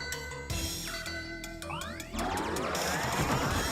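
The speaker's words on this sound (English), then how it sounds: "That's another useful bell power-up." Chiming bell power-up jingle from the Parodius game, bright ringing tones with descending and rising sweeps, then a busier cascade of twinkling notes over steady background game music.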